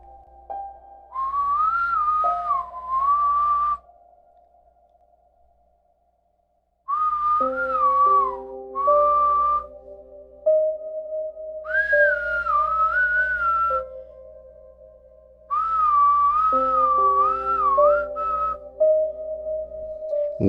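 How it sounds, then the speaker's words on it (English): Rhythmic human whistling, heard as a warbling, deliberate melody outside a window at night, comes in several phrases separated by silent gaps, with sustained tones beneath. "When the whistling started,"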